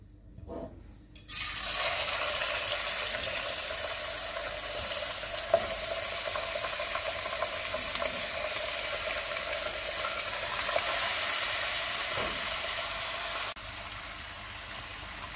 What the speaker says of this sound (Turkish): Şimdi etlerimi bu tencereye ekleyeceğim ve iki taraflı kızartacağım.